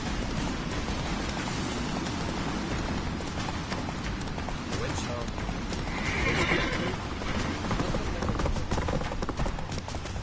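Roach, Geralt's horse in The Witcher game, gallops with steady rapid hoofbeats and neighs over a continuous wash of wind and action noise, loud and close throughout.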